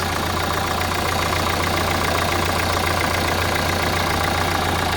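A Renault Megane 2 engine idles steadily with the air conditioner running, giving a continuous, loud, even hum with a low drone throughout and no talk.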